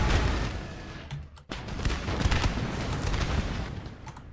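Musket volleys crack out in Napoleon Total War as Prussian line infantry fire on a regiment of militia. A dense, booming fusillade of overlapping shots rolls on with a short gap partway through.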